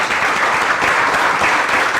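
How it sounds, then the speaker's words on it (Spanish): An audience at the close of a conference on sustainable design claps in dense, steady applause that fills the room, loud and continuous. "damos por terminada esta conferencia con un aplauso"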